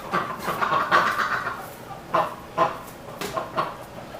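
Small poultry clucking and squawking in a farm enclosure at egg-collecting time, a run of several short bursts at close range with no talk.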